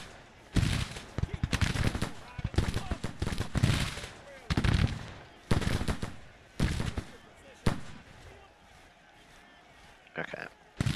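Civil War infantry firing in the strategy game Grand Tactician, repeated crackling volleys of musketry in uneven bursts, loud and close, with pauses between, under someone talking.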